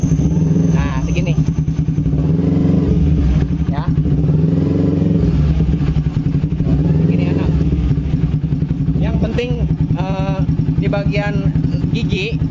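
A Kawasaki Ninja 4T motorcycle engine, under clutch repair, runs steadily and loudly close by as a continuous rumble, with a voice talking over it throughout.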